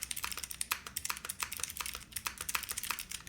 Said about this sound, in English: I've built clicky boards in the past